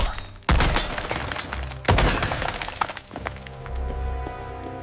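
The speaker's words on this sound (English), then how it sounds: "he breaks down the door." A door is broken down with two loud, close crashing impacts about a second and a half apart, each followed by splintering and rattling debris, then a quieter thud and settling clatter.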